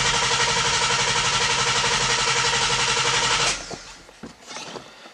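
A 2015-2017 Ford Mustang cranks with its fuel pump fuse removed, a loud, fast, rhythmic starter churn lasting about three and a half seconds that stops abruptly, followed by a few clicks and faint shuffling.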